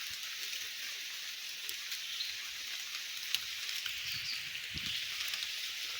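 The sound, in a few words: rain falling in the forest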